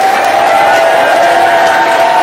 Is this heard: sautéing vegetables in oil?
no